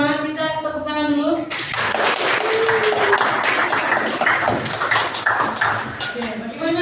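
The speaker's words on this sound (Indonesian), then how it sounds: "untuk bersamaan kita tepuk tangan dulu" An audience in a classroom-style session claps hands together, a dense, steady patter of applause lasting several seconds that begins abruptly after a voice speaks, fairly loud and close.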